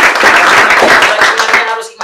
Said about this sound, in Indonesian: Tepuk tangan buat Jenderal sekali lagi.